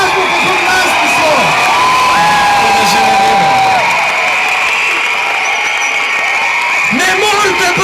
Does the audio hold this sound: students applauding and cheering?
yes